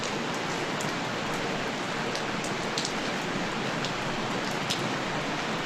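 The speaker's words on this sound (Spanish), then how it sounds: "Y escuchamos el sonido de la lluvia." Steady rain falls without a break, a dense even hiss with scattered sharper drop ticks on top, fairly loud and close, with no voices.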